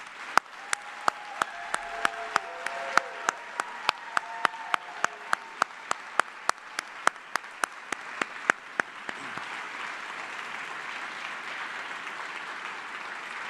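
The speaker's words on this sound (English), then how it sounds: "please join me in a round of applause for these 28 great soldiers" An audience applauds retiring soldiers at an army retirement ceremony, broad sustained clapping with a regular series of sharp loud reports cracking over it about every third of a second for most of the stretch.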